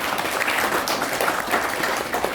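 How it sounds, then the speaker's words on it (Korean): An audience applauds a government minister at a Korean multicultural family kimjang-sharing event, dense continuous clapping throughout. "이 깊은 말씀을 담으신 우리 김영진 장관님께 다시 한번 큰 박수 부탁드립니다."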